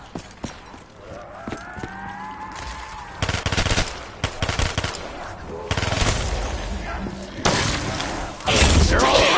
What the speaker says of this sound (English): Nothing like an SMG, yeah!